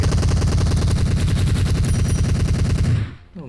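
Rapid automatic gunfire in the mobile battle-royale game PUBG Mobile, a loud, dense, steady burst of rattling shots lasting about three seconds before cutting off abruptly.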